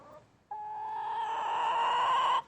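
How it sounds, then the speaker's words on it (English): Backyard pet chickens kept in dog cages give one long, steady, drawn-out call lasting about two seconds, loud and close, after a brief quieter stretch, with no talking. "I do have pet chickens in my backyard"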